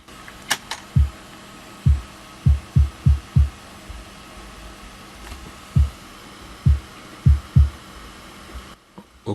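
An isolated kick drum frequency band played back on its own: deep low thumps in an uneven pattern, some single and some in quick clusters of three or four, each short and punchy over a faint background hum.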